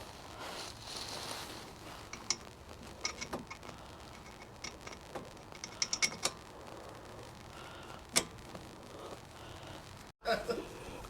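Soft ratcheting clicks and metallic ticks come from a wrench tightening 14mm bolts on the front brake caliper of a 2016 Ford Mustang. They are irregular, close and fairly quiet over a faint background.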